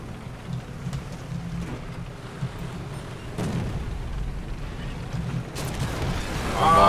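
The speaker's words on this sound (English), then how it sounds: "Bombs fall on A." Bomb explosions in the tank game War Thunder with a German Panzer III medium tank under artillery, heard as a steady rumbling roar of blasts and debris with a heavier burst building at the end.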